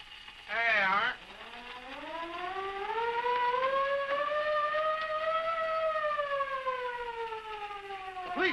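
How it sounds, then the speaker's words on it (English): A wailing police car siren in a 1933 comedy film rises and holds a long steady tone, loud and near, with a brief shout-like burst at the start and faint background voices. "when I hear that old siren, I feel like an old fire horse."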